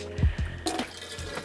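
Foot pump on a sailboat pushing water from the tank into the galley sink, a couple of low gurgling pulses and then a short splashing gush, close up with no talk.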